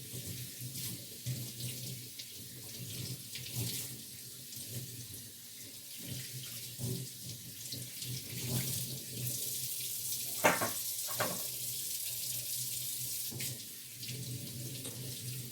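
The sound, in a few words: running tap water while rinsing herbs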